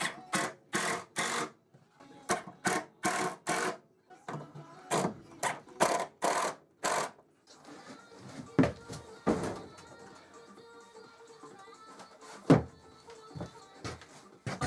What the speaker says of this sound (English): I've got the worktop positioned where I want it now, so I just need to drive the screws in